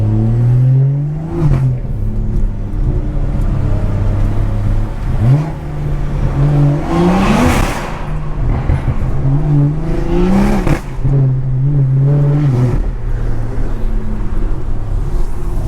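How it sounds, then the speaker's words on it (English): A blacked-out BMW 340i drives through a short tunnel, its engine revving aggressively in repeated rising pulls, loud and close, with a droning exhaust tone echoing between the throttle blips. "This car sounds so aggressive"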